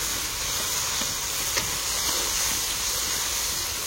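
Tomatoes fry in a hot wok, giving a constant, even sizzling hiss with no pauses and no voices.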